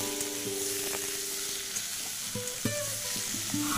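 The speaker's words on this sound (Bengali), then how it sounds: "এদিকে তো পটল আর আলুটা ভাজা আছে, তো সেই জন্য এইবারে পটল আলুটা দিয়ে মশলাটাকে ভালো করে আরেকটুখানি কষিয়ে নেব।" Pointed gourd and potatoes frying with spices in a pan, a steady close sizzle with occasional stirring scrapes and clinks, no voices.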